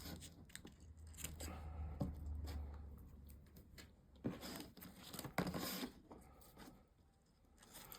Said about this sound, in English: So I'm just going to cut that V.